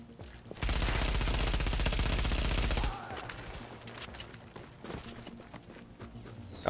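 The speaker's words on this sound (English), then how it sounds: "Oh, it's turrets in the wall." Automated wall turrets in The Division lay down a loud, continuous burst of rapid gunfire for about two seconds, followed by scattered quieter shots, clatter and game noise.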